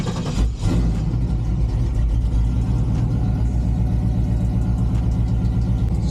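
A Chevy 5.3 V8 in a single cab pickup idles while warming up, a steady, loud, close low rumble that holds even after a brief rev or start burst near the beginning.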